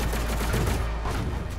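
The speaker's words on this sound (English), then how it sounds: "Someone's still shooting at me" Gunfire in the video game DOOM Eternal, a dense, continuous barrage of rapid shots with heavy low rumble, loud and close, without speech.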